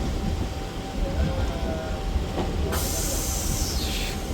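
A MEMU passenger train between Vijayawada and Rajahmundry runs with a dense, steady rumble and hiss, joined near the end by a sudden bright high hiss or squeal that slowly fades.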